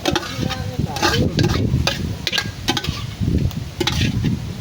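A spoon stirs bopis in a crowded pot with near, scraping and shuffling strokes in uneven bursts over a soft sizzle, with no talk.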